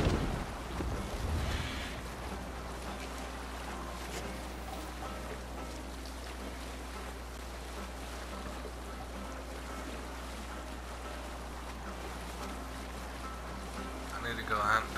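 A boat is rowed across open water in Assassin's Creed Valhalla, with a steady wash of waves and wind, faint and continuous, and a voice talking over it.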